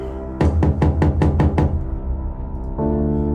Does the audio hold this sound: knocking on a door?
yes